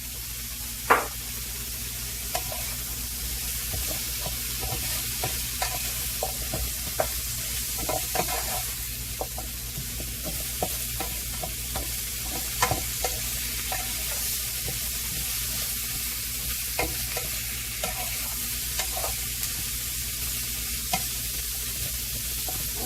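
Chicken and broccoli seasoned with garlic powder sizzle steadily in a pan, a continuous frying hiss with scattered clicks and stirring knocks, close and unbroken, no one talking.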